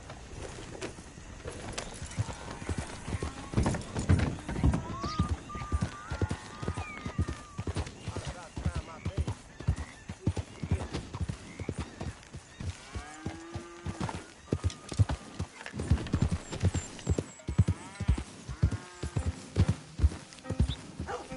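Horse hooves pound in a steady galloping rhythm across open ground in the video game Red Dead Redemption 2, close and fairly loud, while voices talk over the hoofbeats.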